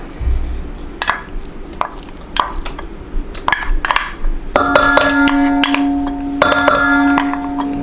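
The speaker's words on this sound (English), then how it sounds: "So now here we're gonna mix now the butter." Butter is worked in a separate bowl for gingerbread cookies, starting with scattered clinks and knocks of a utensil against the bowl, then a steady humming whir of mixing joined by more clatter, all close-up.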